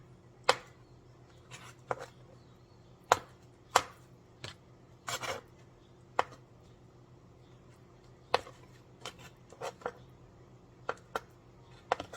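A knife cuts through tofu on a board before frying, giving a dozen or so sharp, separate chops at an uneven pace, close and clear over a faint room hum.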